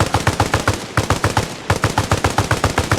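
Rapid automatic gunfire from a squad laying down suppressive fire in the military game Arma Reforger, loud, close bursts of evenly spaced shots with a brief pause in the middle.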